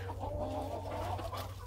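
Chickens cluck softly and steadily inside a barn holding a flock with Buff hens and a rooster, with low hum underneath and no talk.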